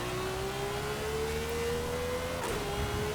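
Supercar engine revving hard during wheel spin in the racing game Forza Horizon 5, a lifted car on road, with a steady high whine rising slightly and a brief burst of noise near the end, no talking.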